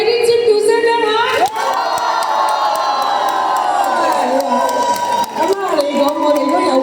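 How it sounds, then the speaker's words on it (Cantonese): A crowd at an outdoor mid-autumn and national day concert in a Sha Tin mall plaza screams, whoops and cheers loudly and continuously, with shrill high voices rising in waves over several seconds. "俾啲尖叫聲聽下"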